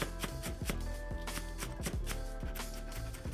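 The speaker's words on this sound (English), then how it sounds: "I'm going to slice these as thin as possible at a 10-degree angle." A kitchen knife slices stacked scallion greens into thin shreds on a cutting board, giving quick, close, evenly spaced chopping taps in a steady rhythm.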